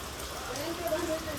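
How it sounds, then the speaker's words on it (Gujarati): Steady rain patters on a surface, a soft continuous hiss with light drops throughout. "કેવો મસ્ત મજાનો વરસાદ ચાલુ"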